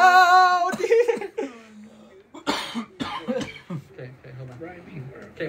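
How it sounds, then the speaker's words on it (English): A person coughs in several short bursts amid laughter and lively talk indoors at night, the coughs close and moderately loud. "All this laugh is making me cough"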